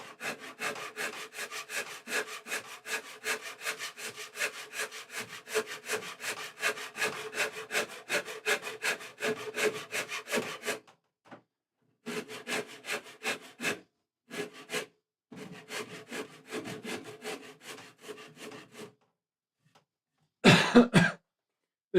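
Shinto rasp shaving the wood of a custom guitar, rapid rhythmic rasping strokes in long close bursts with brief pauses between runs, ending in a short louder scrape.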